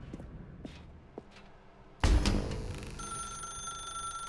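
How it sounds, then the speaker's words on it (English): A telephone rings in the video game The Stanley Parable: faint footsteps and soft thuds in a quiet room, then a sudden loud ring bursts in and settles into a sustained bright electronic ringing tone. "Now pick up the phone."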